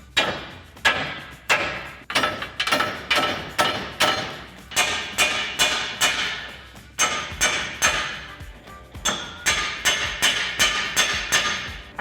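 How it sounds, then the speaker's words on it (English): Sharp metallic hammer strikes on a steel torsion bar key of a 1999-2006 Chevrolet Silverado or GMC Sierra pickup ring out in quick repeated runs, each blow clear and close, with short pauses between bursts. "just kind of tap on this with a hammer here for a little bit"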